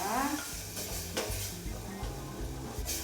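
Onion and garlic sautéing in a pan with whole canned tomatoes for a tomato sauce, sizzling steadily while a utensil stirs and scrapes in short repeated strokes, close up with no talk.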